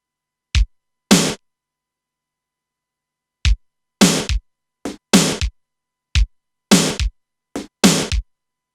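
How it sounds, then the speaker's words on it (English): A KORG Wavestate synthesizer plays a short drum pattern of kicks and snares, sharp isolated hits spaced unevenly with rests between them, clean and loud against silence. "it's gonna sound like kick, snare, kick, go snare, snare, kick, and it sounds like this."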